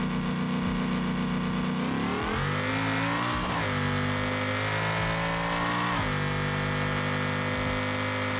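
In the BeamNG video game, a truck engine held on a two-step launch limiter revs hard and continuously, its pitch climbing and dipping in sharp surges, loud and close with no talk.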